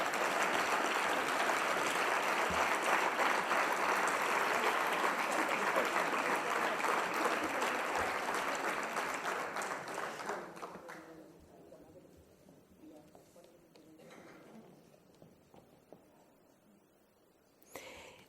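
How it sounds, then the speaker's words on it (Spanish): Audience applause at a Spanish award ceremony for a career in social work, a dense, steady clapping that sustains for about ten seconds and then thins out and fades to scattered claps. "Un fuerte aplauso."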